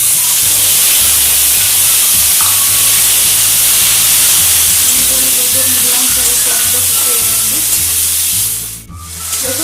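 Chopped tomatoes fry in a pan, giving a loud steady sizzle and hiss that continues throughout with a low hum beneath, briefly dipping near the end.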